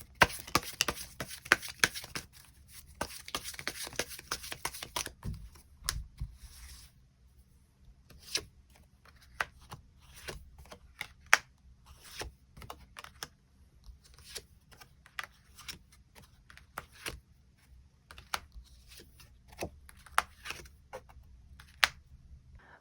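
Tarot cards are shuffled and drawn in a quiet room: a soft, dense rustling for a few seconds, then sparse light taps and slides of cards being laid down, faint and close.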